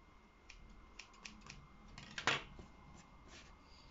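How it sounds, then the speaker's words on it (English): Scissors snip excess thread from a sewn fabric mask in a handful of light, quiet clicks, one sharper cut near the end, in a hushed room. "So you trim off any excess or unwanted threading."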